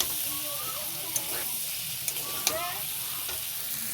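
Jackfruit and prawn curry frying and being stirred in a pan, a steady close sizzle with occasional spoon scrapes and small clinks against the metal.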